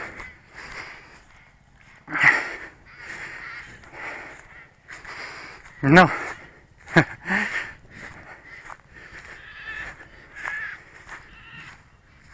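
Crows caw outdoors in a rural field, with several harsh calls scattered across the span at mid distance, some louder and closer than others. Short spoken words come through at one point.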